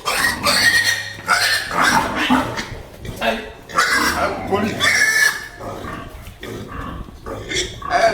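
Pigs on a pig farm in Togo grunt and squeal in repeated bursts, close and loud, mixed with a person talking throughout.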